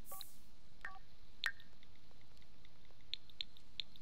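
Phone dialing in The Sims 4: a short run of faint, evenly spaced electronic beeps, several isolated tones spread across a few seconds over a quiet background, with no voices.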